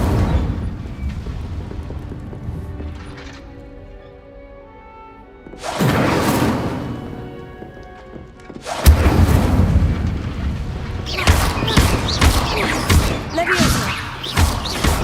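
Incendio fire spell blasts in Hogwarts Legacy: several separate whooshing bursts of flame, each loud and booming, with quieter gaps between them and a final stretch of crackling, overlapping blasts.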